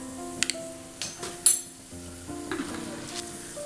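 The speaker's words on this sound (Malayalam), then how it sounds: "എണ്ണ ചൂടായി കടുക് പൊട്ടി കഴിയുമ്പോൾ 1/4 ടീസ്പൂൺ പരിപ്പ്" Mustard seeds crackling in hot oil with dal added for oats idli tempering: a soft steady sizzle with a few sharp pops and light metal spoon clinks against the pan.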